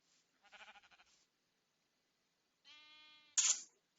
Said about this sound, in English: More sheeps potentially over here.